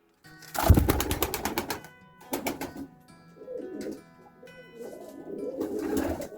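Winter pigeons, including a crested young bird, cooing in a loft: a burst of flapping and clatter, then soft, low, repeated coos close by, with no talking.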